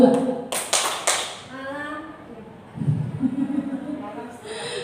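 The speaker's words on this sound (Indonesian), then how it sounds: "Kita mainnya tepuk tangan saja." A few sharp claps ring out early on, followed by people talking.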